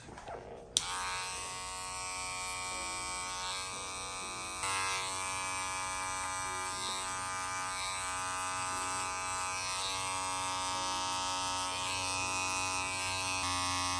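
Electric hair clippers buzz continuously and close up while fading the bottom line of a drop fade haircut, a steady motor whine that shifts slightly in pitch as the blade works.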